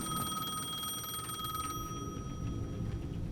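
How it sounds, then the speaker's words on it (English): A payphone rings steadily at the edge of a plaza in the video game Alan Wake 2, a bright repeating electronic trill over a low ambient rumble that stops partway through. "The payphone at the edge of the plaza was ringing again."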